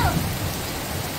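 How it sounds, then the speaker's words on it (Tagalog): Rain falling steadily outdoors, a soft, even wash of patter heard briefly and at moderate distance. "Wow! Rain?"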